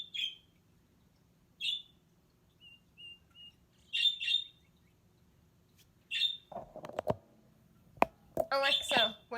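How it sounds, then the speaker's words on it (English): Recorded bird calls play from an Amazon Alexa smart speaker in a quiet room, short bright chirps repeating at intervals, followed by a brief low voice and a few more clustered tweets. "what sound does a bird make?"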